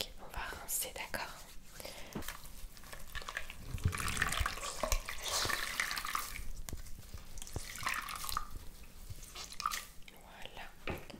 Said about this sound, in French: Ok, on va rincer, d'accord?